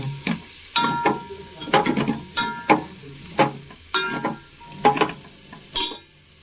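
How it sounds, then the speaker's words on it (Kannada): Cauliflower florets, washed in hot water, stir-frying in a pan for cauliflower pulao, with repeated scraping stirring strokes and bursts of sizzle in an irregular rhythm, close up with no talk. "ಫ್ರೈ ಮಾಡ್ಕೊಳ್ಳೋಣ ಚೆನ್ನಾಗಿ."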